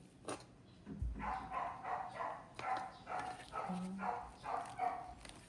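A neighbor's tied-up, impatient dog barks and whimpers in a series of short, evenly spaced yelps and whines at moderate distance, with faint outdoor background and no talking.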